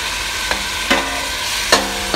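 Chicken added to sizzling browned onion mixture in a karahi, a steady loud fry with a few sharp clinks of a spoon against the pan.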